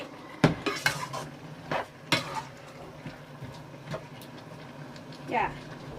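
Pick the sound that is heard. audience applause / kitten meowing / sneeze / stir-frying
stir-frying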